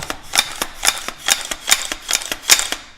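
Sharp metallic clicks from an AR-15 lower receiver's trigger and hammer during a function check, about a dozen crisp snaps in an irregular rhythm, close and clear with no talking.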